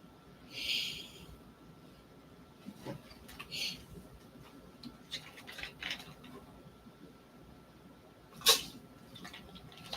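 A few short, sharp sneezes from a small animal, spaced apart over quiet room noise, the last one loudest and closest.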